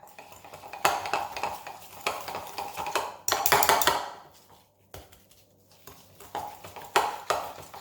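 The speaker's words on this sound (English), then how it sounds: "Give it a stir." Stirring thick keto pumpkin spice cake batter in a bowl, with repeated scraping strokes and sharp utensil clinks against the bowl in bursts, fairly close and alone.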